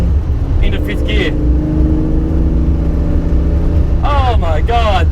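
A bored-out 3-litre straight-six car engine drones loud and steady at speed in fifth gear, with short chirps and whistling tones over the top.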